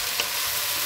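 Garlic frying in a pot for Damascene-style mulukhiyah, a steady broadband sizzle with a brief stir or crackle near the start, close and alone.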